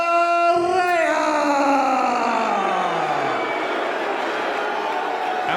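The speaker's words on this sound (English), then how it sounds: "you can hear the crowd jeering and booing for the Parea" A wrestling crowd at an indoor show jeers and boos, a loud sustained wave of voices, with a rising horn-like blare at the start that slides down and fades into the booing.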